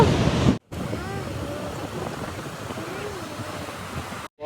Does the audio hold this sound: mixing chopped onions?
no